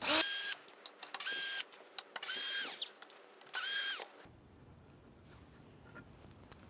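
A power drill drives screws into a vinyl pedal pad in several loud whirring bursts of about a second each, separated by short pauses, before the motor stops and only quiet handling noise remains.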